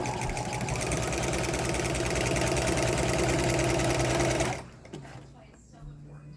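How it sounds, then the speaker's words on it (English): A sewing machine stitches the side seam of fabric bummies, whirring in a fast, steady, close run for about four seconds before stopping abruptly, leaving quiet handling. "line it up with your side seam, like so, and you're gonna pull tight to where they're together, and you're gonna sew."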